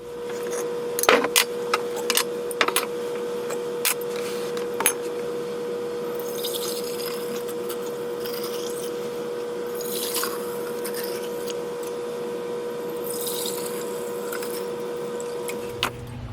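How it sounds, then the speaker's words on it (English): Hand-washing of milk-processing equipment on a dairy homestead with hot soapy water, then a vinegar spray: steady running water and sloshing in a sink, with a scatter of sharp clinks and drips early on and a faint continuous hum beneath. "I need 2 hands here to do my hot soapy water wash, followed by the vinegar spray."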